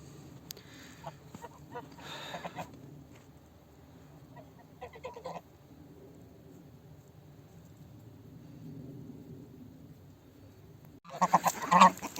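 Farmyard geese and chickens gather at feeding time, giving faint scattered honks and clucks at a distance, then a louder burst of calls near the end.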